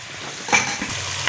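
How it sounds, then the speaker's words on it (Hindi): Chopped tomatoes fry for a chicken and matar curry, giving a soft low sizzle, with a couple of light scrapes and taps of a spoon against the pan across a short moment. "तकरीबन 3 से 4 मिनट हम इसको मज़ीद भूनेंगे ताकि टमाटर वगैरह जो है ना अच्छी तरह मिक्स हो"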